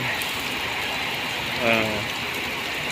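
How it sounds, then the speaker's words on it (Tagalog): Heavy rain pours steadily in hot weather, a dense continuous hiss throughout, with a faint voice rising briefly in the middle. "Pero ang lakas ng ulan oh."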